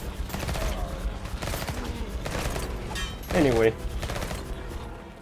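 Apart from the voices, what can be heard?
Uzi gunfire in the video game Bloodshed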